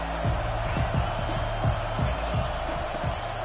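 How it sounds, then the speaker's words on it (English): A stadium crowd at a football game roars as a steady, dense wall of cheering, with repeated low thumps or stamps punching through the noise throughout. "This crowd bringing the energy and noise early."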